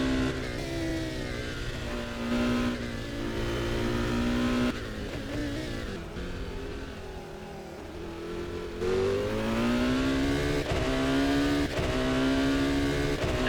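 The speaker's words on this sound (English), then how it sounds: "just enjoy the engine sound, or let's say the music, whilst he's driving this lap" A race car lapping the Magny-Cours circuit in a racing game, its engine screaming loud and close through repeated gear changes, with high revs climbing, dropping and climbing again as it accelerates and brakes.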